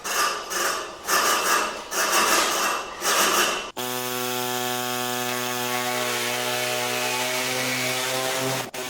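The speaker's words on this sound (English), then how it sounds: "So the body saw was not cutting it, literally and figuratively." A body saw rasps through excess steel window trim in a steel workshop in three or four loud reciprocating bursts, then a sustained high whining tool tone takes over, close and alone.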